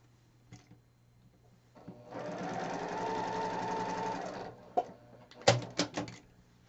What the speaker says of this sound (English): I'm going to go ahead and sew these guys together to make this section here